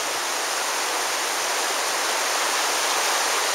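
River water rushes through the Zion Narrows canyon in a steady, dense hiss of flowing current, loud and close, continuous without pause and with no voices.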